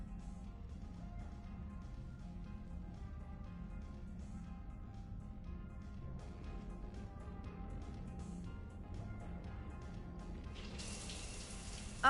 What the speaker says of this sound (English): I figured you'd be more interested in a shower.